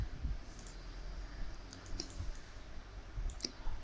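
Sparse mouse clicks on a computer running Maya while working on the animation timeline, a few soft, scattered ticks over a low steady room hum with no speech.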